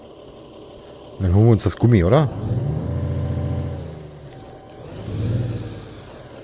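A truck engine in the video game Alaskan Road Truckers cranks with a whining starter, catches and then runs steadily with a rising rev near the end, while someone talks over it.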